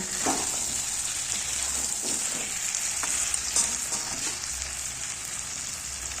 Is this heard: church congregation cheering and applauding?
no